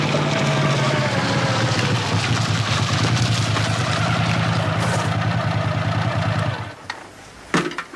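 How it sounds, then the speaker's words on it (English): Rough, loud vehicle engine with a cracked muffler rumbles steadily up close, then cuts off abruptly near the end, leaving a couple of brief knocks. "I reckon I've heard that cracked muffler somewhere before."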